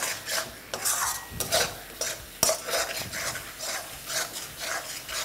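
Capsicum cooks in a pan, with repeated scraping and stirring strokes of a utensil against the metal and faint sizzling beneath, close up and with no voices.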